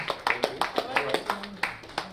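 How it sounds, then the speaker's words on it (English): An audience at a business conference on creative industries and sports claps in a steady, rapid patter, with a voice talking over the applause. "A round of applause for him."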